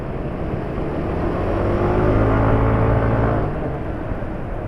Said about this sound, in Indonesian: Ini sudah terasa kasar nih suara mesin.